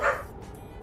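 One quick dog bark sounds at the very start, then quickly fades into quiet background.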